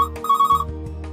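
A telephone rings for an incoming call to a live Hindi phone-in helpline show, a tonal electronic ring over a steady low hum, fairly close and with no talking.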